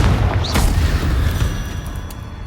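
A Confringo fire spell explodes in Hogwarts Legacy, a loud low boom with a bright crackling burst near the start that rumbles on and slowly fades.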